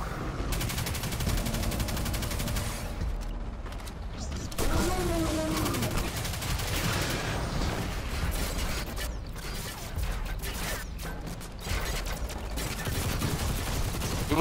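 Gunfire from a Destiny 2 match chatters almost continuously, dense mechanical rattling and repeated shots near and loud, with brief changes in intensity; a voice talks over it.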